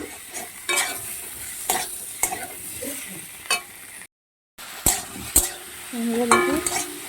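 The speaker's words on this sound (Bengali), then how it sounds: "ভালোভাবে কষানো হয়ে এসেছে" Chopped tomato and green chillies sauté in a pan for a katla kaliya fish curry. A steady sizzle runs under repeated scraping stirs and utensil knocks, with a brief gap and then clinks near the end. No talk.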